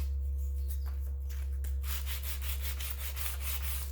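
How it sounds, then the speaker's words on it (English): An oak kitchen cabinet being sanded by hand with 100 grit sandpaper, a run of quick rhythmic rasping strokes growing brisker, heard alone over a low steady background hum. "so I'll just make sure I hit that with the sandpaper again. Just using my 100 grit first."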